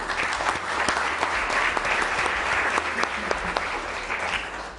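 An audience at a police department awards ceremony applauds, dense, steady clapping from many hands filling the room without a break.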